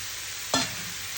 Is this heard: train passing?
no